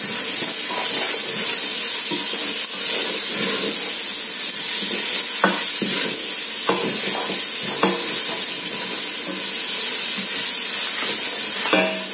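Spring onions and garlic sizzle in oil in a pan on the stove, a steady close frying hiss with stirring scrapes and a few sharp clicks, no voices.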